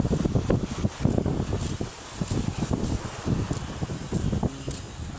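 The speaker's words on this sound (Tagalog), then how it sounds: "Sarap lang simoy ng hangin dito" Steady wind gusting along the Buenavista seashore in Tandag City, Surigao del Sur, in the afternoon, a continuous rushing roar with buffeting against the microphone and no talking.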